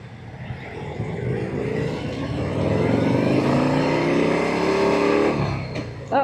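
A Harley-Davidson motorcycle on a demo ride revs up, its engine pitch climbing and holding loud and close for several seconds before easing off, with a rider's voice faintly mixed in.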